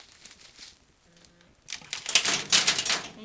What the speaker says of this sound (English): what you hear there is some pebbled rock falling through my seed starting station